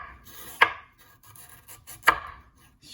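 A knife cuts down a carrot on a cutting board in two sharp, separate strikes, close and clear, with quiet pauses between them.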